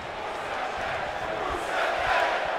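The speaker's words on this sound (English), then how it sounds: "As the crowd chants for Rusev Day." A WWE 2K19 arena crowd chants for Rusev Day during a tense match with Cesaro, a steady, loud roar of many voices that swells slightly near the end.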